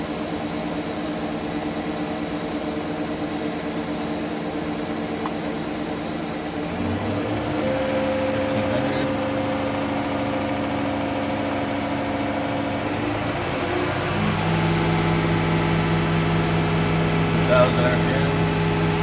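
A 2014 Okuma Genos L300E-MY CNC lathe spindle hums steadily, its whine stepping up in pitch as the speed rises, with a voice speaking over the machine drone.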